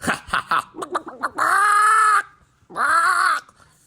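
Chickens clucking and squawking in quick, irregular bursts, then two long, loud sustained calls with a pause between them, close to the listener.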